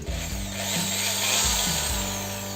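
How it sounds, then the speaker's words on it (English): A power drill with a 2-inch hole saw whines steadily, its motor pitch dipping and rising a few times as the saw bites into a hydroponics box, loud and close. "We're gonna be using a drill with a 2-inch hole saw attached to it."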